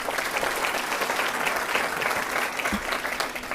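An audience at an elementary school ribbon cutting ceremony claps steadily, producing a dense, even round of applause with no pauses.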